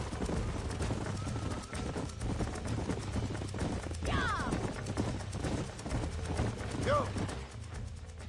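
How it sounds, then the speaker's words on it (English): Horses galloping in the video game Red Dead Redemption, a rapid, continuous clip-clop of hooves close by that runs under brief shouted words from a rider, with an occasional whinny. "These are fine horses."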